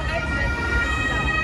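An ambulance siren wails steadily over road traffic noise, fairly loud and close, heard in a short burst.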